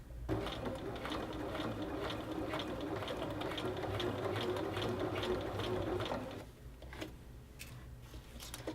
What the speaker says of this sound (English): So I'm just going to sew right into that tip